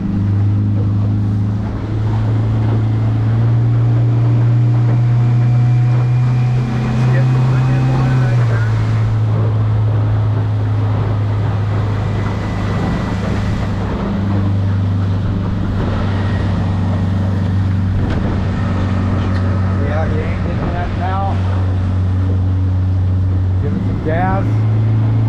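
A 1550 Stabicraft Frontier boat's engine runs in gear with a bait tank pump going, a loud, steady low drone that holds throughout with slight pitch shifts while people talk over it.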